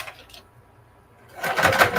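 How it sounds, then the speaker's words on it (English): A home sewing machine stitching through thick fabric starts up after a short pause and runs in a steady, fast, close whirring burst for the last half second. "So let me start my sewing"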